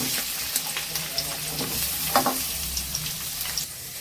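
Garlic and onions sauté in hot oil for a fish curry, a steady close sizzle and crackle with occasional stirring scrapes and no talk.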